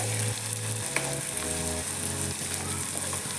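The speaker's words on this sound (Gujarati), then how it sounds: "આપણે ડુંગળીને થોડી ગુલાબી કલરની થાય ત્યાં સુધી તાતડી લેવાની છે" Chopped onions fry in a pan for a pigeon-pea dish, a steady close sizzle with occasional stirring scrapes.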